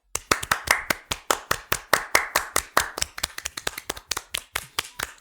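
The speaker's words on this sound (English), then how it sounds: "a round of applause for the lovely 3 blind mice" A few people on a podcast clap in a round of applause. The sharp, close claps are distinct and fairly regular, some bunched together, and nobody speaks over them.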